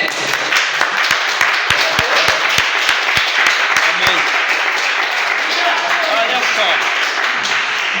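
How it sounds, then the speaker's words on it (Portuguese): Church congregation applauds with sustained clapping filling the room, and a few sharp, regular louder claps stand out near the front during the first half before the applause carries on evenly. "Vamos aplaudir o Senhor para essa palavra?"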